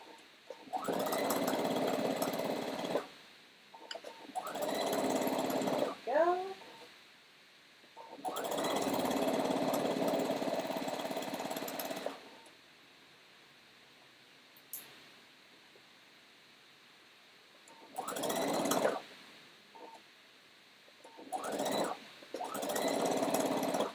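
A home sewing machine stitching in repeated bursts of a few seconds each, a close, buzzing mechanical whir that starts and stops with quiet gaps between runs.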